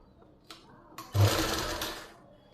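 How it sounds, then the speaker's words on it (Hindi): A sewing machine stitches a folded pleated suit sleeve, with a couple of soft clicks and then a loud, close burst of rapid mechanical stitching lasting about a second before it stops. "मोटे बखिए से सिलाई लगाएंगे"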